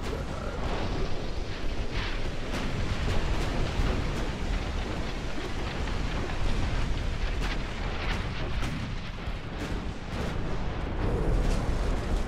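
A torpedo strikes a warship during a naval battle in the video game Ultimate Admiral Dreadnoughts, set in a dense, continuous roar of explosions and rumbling gunfire that never lets up.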